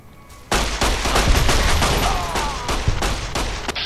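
Gunfire in the video game Fallout New Vegas: a loud, rapid burst of repeated shots breaks in abruptly and continues steadily for several seconds.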